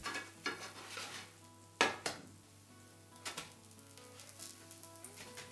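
A soft, steady sizzle of apple-cinnamon pancake batter frying in a pan, with a few clinks of utensils and a sharp scrape or clatter partway through; no talking.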